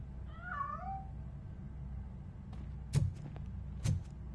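A cat meows once in a RoboCop: Rogue City game scene, a short rising-falling cry over a low ambient hum, followed by a few faint thumps and clicks.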